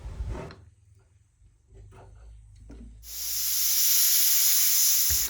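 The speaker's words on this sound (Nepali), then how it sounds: "सिटी लागेर हावा गइसकेपछि अब म हेर्दैछु।" A pressure cooker on the stove cooking kodo millet dhido lets out a loud, continuous hissing release of steam after a few faint clicks and clatters, near and steady for the latter half.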